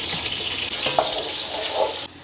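Mushrooms frying in a pan, a steady broadband sizzle that holds loud and even throughout with faint crackles and no talking.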